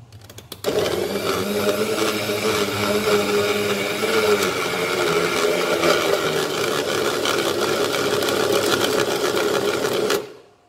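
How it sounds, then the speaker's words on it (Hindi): An electric chopper grinds raw chicken and other ingredients into mince for homemade nuggets, giving a loud, steady whirring motor drone that runs continuously for about ten seconds before cutting off abruptly. "उसको अब हम 2 से 3 दफा करके सिर्फ ग्राइंड करेंगे ये चॉप जो है"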